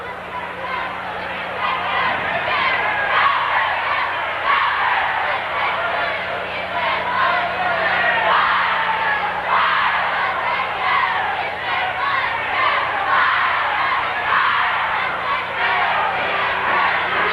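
A standing-room-only crowd at a high school basketball game roars continuously, dense shouting and cheering that swells and holds for the whole stretch, with voices and an announcer's speech buried in the din.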